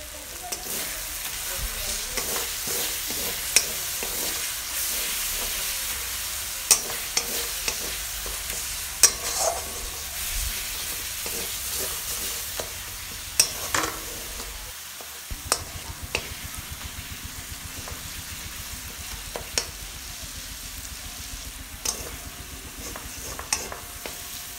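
Egg curry masala with added sugar being sautéed in a pan, with a steady loud sizzle of frying throughout and repeated scraping strokes of a spoon stirring the masala, without talk.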